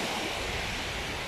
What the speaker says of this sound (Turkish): Gayet güzel bir plaj.